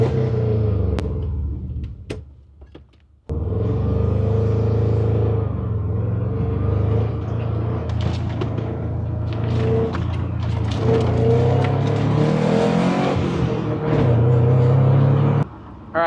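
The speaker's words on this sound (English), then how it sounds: "Give her a little rev for good fortune." A Subaru Impreza GC8 engine rumbles heavily from inside the car, dropping out briefly before the revs climb and swell through a loud, sustained, varying pull, then settle back near the end.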